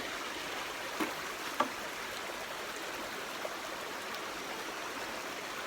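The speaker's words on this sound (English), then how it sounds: "Nice little creek runs through here." A small creek flows beside a trail camp near a highway on the Appalachian Trail, giving a faint, steady wash of running water with a few soft splashes and no voices.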